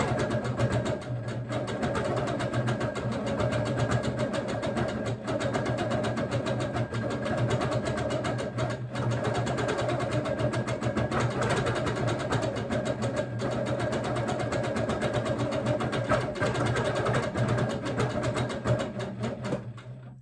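A quilting machine stitching ice-dyed fabric hums with a steady fast needle rhythm, close and even throughout with no talk.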